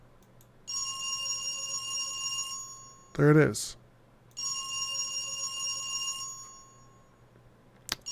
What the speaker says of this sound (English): The ring echoes down the hallway.